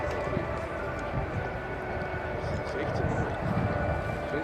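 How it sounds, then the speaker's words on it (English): An Italian Air Force Spartan transport plane makes a flyby at the RIAT 2014 air show, a steady, loud, broad engine roar that holds evenly throughout without fading. "getting ready for the next flyby in which the Italian Air Force Spartan will simulate"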